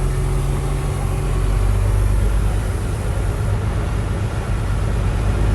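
The engine of a manual-transmission truck holds a loud, steady, low droning rumble while the vehicle backs up slowly, with no voices heard.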